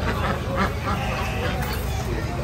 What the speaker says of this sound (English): You got ducks.